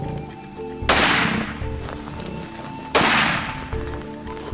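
Two loud rifle shots ring out during a hunt, about two seconds apart, each a sharp crack trailing off into a long outdoor echo, with no talking over them.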